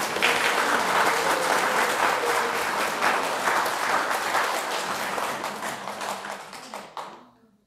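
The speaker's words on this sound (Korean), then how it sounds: "박수." Audience applauding at an award ceremony for a Buddhist meditation center's 15th anniversary book-report contest, a sustained dense round of clapping that thins out and stops near the end.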